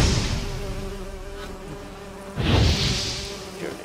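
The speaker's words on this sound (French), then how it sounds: "Des abeilles ici, des abeilles, c'est pas une blague, hein." Bees buzz in The Witcher 3 video game, a steady droning hum that swells louder partway through, with a low background rumble beneath it.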